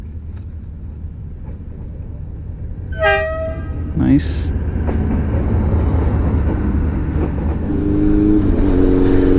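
A train passes a closed level crossing on a road trip in Vietnam: a horn sounds clearly, then a rumbling wagon roll builds and continues. A brief spoken word and a motorcycle idling are heard nearby.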